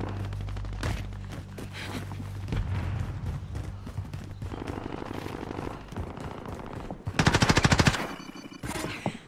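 Rapid automatic gunfire from Call of Duty: Modern Warfare, with bursts of shots throughout the battle and a loud, dense volley near the end against a steady combat background.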